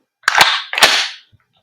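An airsoft gas blowback rifle fires a few sharp, loud, close cracks. Each shot has a brief hissing tail, then the clip falls silent.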